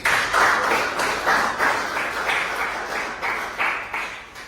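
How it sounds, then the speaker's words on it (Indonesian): A class of students gives a round of applause in a classroom, steady overlapping clapping that starts strong and slowly tapers in loudness over several seconds, with no voices on top. "Ya, kasih tepuk tangan."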